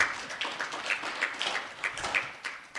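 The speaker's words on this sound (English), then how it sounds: "Another round of applause for her." Audience applause at a biodiversity funding conference, a steady wash of many hands clapping with sharper individual claps standing out, moderately loud and continuous for a few seconds with no talk.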